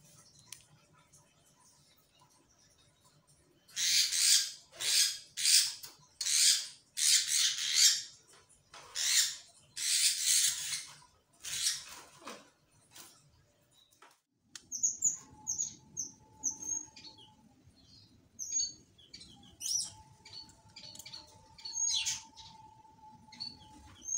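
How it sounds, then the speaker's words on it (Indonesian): A small kahicap ranting songbird calls up close, first in a run of bright, rhythmic chirping bursts, then a series of thin, high whistled notes and short chips, clear against a quiet background. "kahicap ranting"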